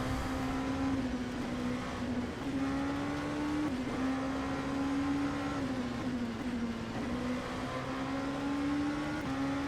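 An Oreca 07 LMP2 prototype races at Le Mans in rFactor 2, its engine holding a steady faint drone that rises and dips slightly through gear changes and corners, with no talking over it.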